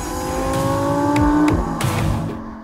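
An Audi R8 with a mid-mounted, high-revving naturally aspirated V10 revs loudly and close by, its pitch climbing, briefly dropping and rising again before falling away.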